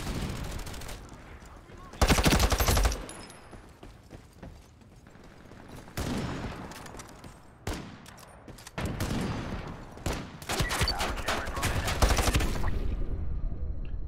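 Gunfire in the online shooter Ironsight, with repeated bursts of shots and sustained automatic fire coming in dense loud stretches over game ambience.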